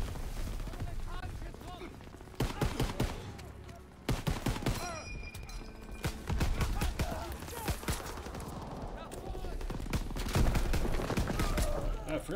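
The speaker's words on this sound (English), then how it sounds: "I forgot how weird the pistols were in this game." Pistol and other gunfire in the video game Call of Duty: WWII, rapid repeated sharp shots in bursts amid loud battle noise, with a player talking over parts of it.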